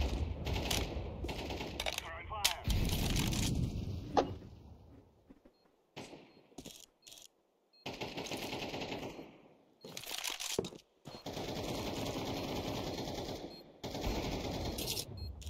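Automatic gunfire rattles in the video game Counter-Strike 2, bursts of rapid shots coming in repeated loud clusters separated by short quiet gaps, with game effects between them.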